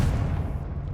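A Confringo blasting spell in Hogwarts Legacy lands as a single heavy, low explosive boom that rumbles and fades within a second.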